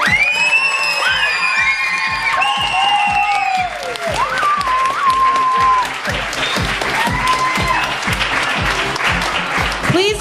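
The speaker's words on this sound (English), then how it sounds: "Please give a big round of applause for our Joyful Noise Choir." An audience at a children's musical applauds a children's choir: loud continuous clapping and cheering with shouts and whoops from a crowd throughout.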